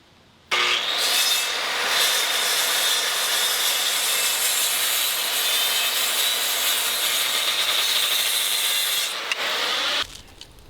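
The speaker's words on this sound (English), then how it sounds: "I'm cutting a 1/2 inch off each end to get rid of the rotten end grain." A hand saw cutting half an inch off the rotten end of a pressure-treated wooden deck stair tread, a loud continuous rasping run of quick strokes lasting about nine seconds before stopping abruptly.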